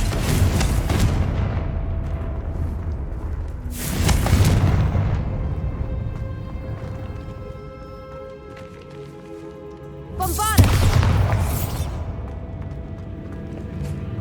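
Two deep booming blasts from the Confringo spell in the video game Hogwarts Legacy, one near four seconds and another near ten, standing out over a steady game background with no talking.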